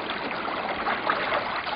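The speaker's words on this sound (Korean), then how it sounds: "진짜 물소리가 들려왔다." Water runs from a village spring in the mountains as a steady, close burble and trickle, continuous and fairly loud with no voices.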